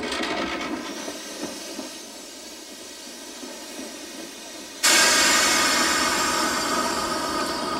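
A train through the Rockies in Canada rumbles along with a steady hiss and rattle, then the sound abruptly grows louder and brighter, as if moving closer or into the open.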